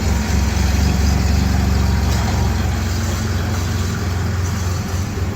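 A Firebird's 3.8-liter V6, freshly installed, runs with a steady, heavy low rumble that holds loud and close throughout, with no voices over it.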